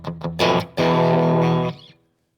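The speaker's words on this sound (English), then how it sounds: "Set in some basic reverb, ambience, see how that sounds." Electric guitar played through an effects unit with basic reverb and ambience: a couple of short plucked notes, then a loud sustained chord that rings out and fades into a reverb tail, alone without talk.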